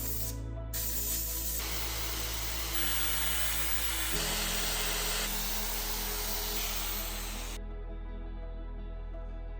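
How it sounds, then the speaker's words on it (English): Alternator components being cleaned and polished with a power tool, a loud sustained whirring hiss that shifts in pitch in stages before cutting off near the end. "we will clean and polish the various components of the alternator"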